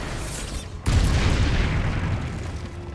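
Casting Bombarda, the blasting spell in Hogwarts Legacy, sets off a sudden loud explosion after a quieter lead-in, with a heavy close boom that rumbles and slowly decays over a couple of seconds.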